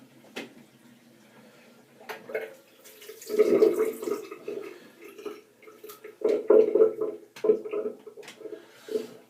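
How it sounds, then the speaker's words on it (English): Water drains and gurgles from a bathroom sink after shaving with a straight razor, with soft irregular splashes and trickles in short bursts, close and fairly quiet. "I just put my hand back in the sink to drain the water."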